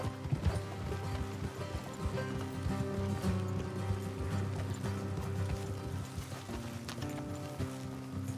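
Steady clip-clop of horse hooves trotting at an even rhythm in the video game Red Dead Redemption 2, with a creaking, mechanical undertone and faint ambient background.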